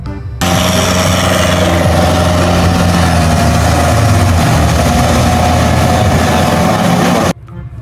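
A toy tractor gives off a loud, steady engine-like drone with a rough mechanical rattle that holds unbroken for about seven seconds before cutting off sharply.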